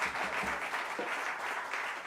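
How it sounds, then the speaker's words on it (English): A dense wash of audience applause for saxophonist Jerry Espinosa at a big band performance, steady and full throughout the brief stretch, with no voices over it. "I'm gonna make you clap for him one more time"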